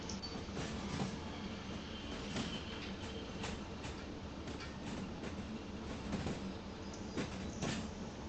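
Train rolling along the rails in the video game Derail Valley, a steady rumbling wagon noise with intermittent clanks and rattles, continuous and fairly even in loudness.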